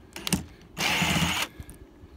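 A power drill spins out screws from a keyless-entry RV door lock, giving one steady whir of about two-thirds of a second, with a few short clicks and handling taps just before it. Close and fairly loud, with no talking.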